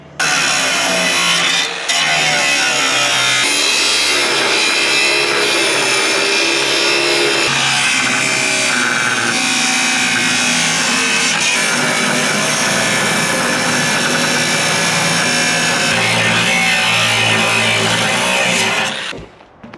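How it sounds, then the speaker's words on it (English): An angle grinder cuts through steel on an old trailer, a loud, close, continuous high whine that holds steady for almost twenty seconds before winding down at the end. "So I'll get the old grinder out and take this bit out."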